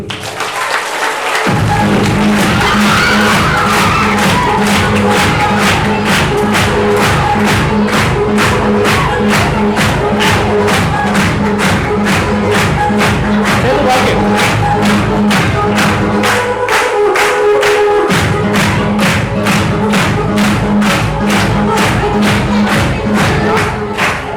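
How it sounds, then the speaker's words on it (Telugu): An audience at a motivational talk for intermediate students claps hands together in a fast, steady rhythm that runs loud and unbroken, with a low crowd murmur underneath. "ఒకసారి రెండు చేతులు పైకెత్తి గడ్డే క్లాప్స్ కొట్టండి"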